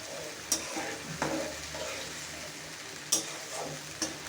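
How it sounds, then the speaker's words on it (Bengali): Spice paste being sautéed over low-medium heat in a pan for a gourd and fish curry, a soft steady sizzle with four sharp scraping stir clicks spread across it. "লো মিডিয়াম হিটে আমি মশলাটা কষাবো।"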